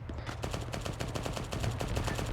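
Rapid automatic gunfire bursts in an Arma 3 military battle, a steady rattle of closely spaced shots that grows slightly louder midway, with no talking.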